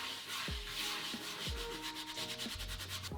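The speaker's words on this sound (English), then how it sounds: "Now clean the peel and remove any sticky areas." Stuck dough is scraped and rubbed off a pizza peel in firm, rhythmic strokes about once a second, with a close, gritty abrasive texture and no voices.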